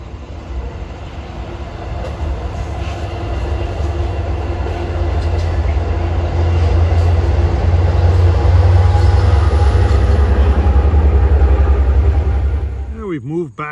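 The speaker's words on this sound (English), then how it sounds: "at 3:31, about to cross the bridge, is train 8707 en route from Southampton to Jamaica" Passenger train 8707 on the Montauk Branch, running from Southampton toward Jamaica on its last run, rumbles steadily and loudly across a bridge, a deep continuous roar building and holding close before cutting off abruptly.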